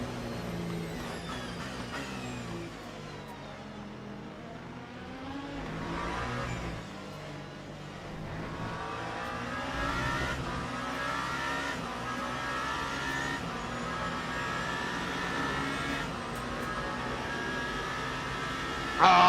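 Race cars circulate in traffic at Imola in a sim racing game, engines revving and sweeping up and down continuously as they run close together, with occasional louder surges near the end.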